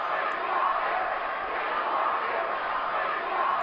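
A Boston ballpark crowd in a Strat-O-Matic baseball game replay, a steady distant roar of cheering at even loudness with no distinct voices standing out.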